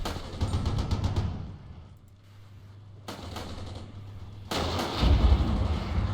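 Rocket launchers fire in the military strategy game Armored Brigade, giving deep booming blasts and rumbling salvos with a steady low drone between them, loud and dense at the start and again near the end.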